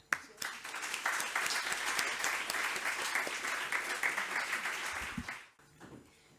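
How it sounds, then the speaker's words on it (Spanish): An audience at the closing session of an international literary congress applauds steadily for several seconds, dense clapping that cuts off abruptly, leaving faint room sound. "Un aplauso."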